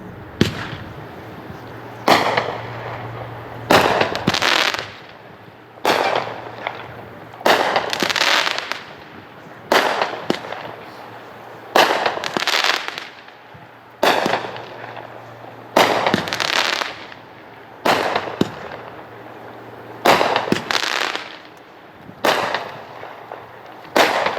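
A 38-shot consumer fireworks cake fires at a demo, with sharp launch thumps and crackling bursts arriving in evenly spaced volleys, loud and unaccompanied by speech.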